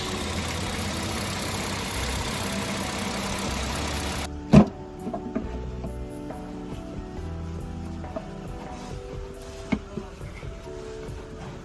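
A BMW N20 engine settling into a steady, low idle just after starting, a quiet continuous hum with a few sharp knocks and clicks nearby.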